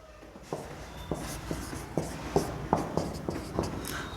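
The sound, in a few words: writing out a maths question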